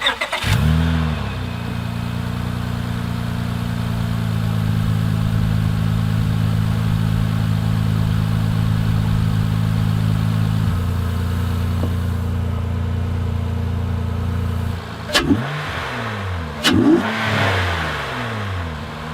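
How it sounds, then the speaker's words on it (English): A 2013-17 Honda Accord V6 fitted with a Takeda intake cranks and catches, settles into a steady idle close to the microphone, then answers several sharp throttle blips with rising and falling revs. "So we can start the car,"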